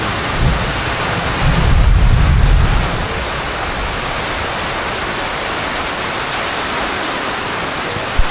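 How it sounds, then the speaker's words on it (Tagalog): Heavy typhoon rain from Typhoon Emong pours steadily over flooded streets in Malolos, a dense, loud, unbroken hiss with a brief swell of deeper rumble early on and no voices. "Yung ulan."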